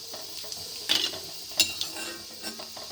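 Dried red chillies, about five, frying in oil in a pan, with quiet bubbling broken by a few sharp clinks and scrapes of a spoon against the metal.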